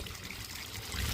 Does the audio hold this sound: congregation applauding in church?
no